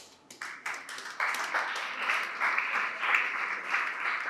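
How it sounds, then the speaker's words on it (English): Audience applause at a school debate conference in Abeokuta, Ogun State, beginning as scattered individual claps and swelling into steady, dense clapping from a seated crowd that carries on without voices. "Please keep clapping"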